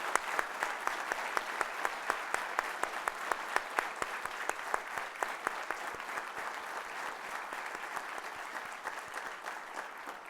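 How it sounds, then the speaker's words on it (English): Steady applause from an audience at a U.S. Army Officer Basic Course graduation ceremony at Fort Benning, Georgia, sustained, dense clapping heard from some distance, slowly fading toward the end. "Let's give them a huge round of applause"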